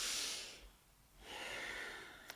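Deep breaths during a Sufi grind in a kundalini yoga cool-down: a loud exhale-like rush, a short pause, then a long inhale through the nose, close and alone without talk.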